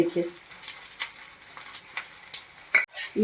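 Light crackling and popping as edible gum fries and puffs up like popcorn in a hot pan, with soft stirring scrapes and occasional sharp pops, steady and close.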